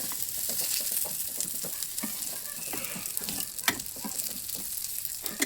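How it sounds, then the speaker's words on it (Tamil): Fish pieces fry in a little oil in a pan until golden on both sides, making a steady, close sizzle with crackling pops throughout and no talking. "கூட கொஞ்சமாக ஆயில் அப்ளை பண்ணி 2 பக்கமும் நல்லா பொன்னிறமாக வெந்ததும்"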